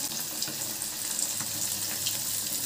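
Fish pieces frying in hot oil produce a constant hissing sizzle with occasional faint pops, even and moderately quiet throughout.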